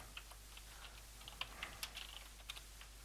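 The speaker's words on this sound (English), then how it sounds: "I think you have to actually type climb up" A command being typed on a computer keyboard while playing King's Quest 1: soft, scattered keystrokes tapped at an uneven pace, faint and close, over a steady low hum.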